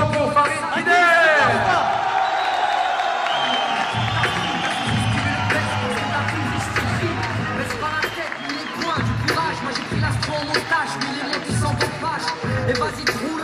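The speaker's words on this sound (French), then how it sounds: "Donnez un applaudissement pour Farid Kider." An audience at a French rap battle applauds and cheers, a dense crowd roar with claps and whoops that swells at first and then continues steadily, with voices over it.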